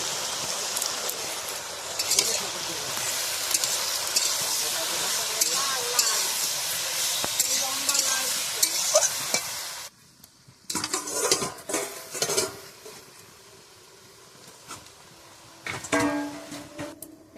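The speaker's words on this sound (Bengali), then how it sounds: "এখানে ভাজা হতে থাক আস্তে আস্তে করে" Vegetables with green chili and turmeric fry in a pan in a rural village kitchen, giving a steady crackling sizzle that cuts off abruptly, then quieter clinks and scrapes of utensils and pots follow.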